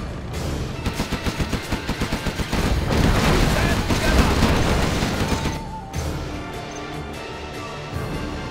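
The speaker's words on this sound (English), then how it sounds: "Gatling cannon is ready." Rapid bursts of heavy gatling cannon fire in the video game Command & Conquer: Generals, a fast rhythmic stutter giving way to a dense, loud barrage with booming impacts.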